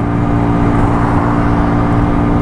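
A Superlight 125 motorcycle climbs a hill in third gear near Şile, its engine holding a steady, close, continuous drone with no break or change in pitch.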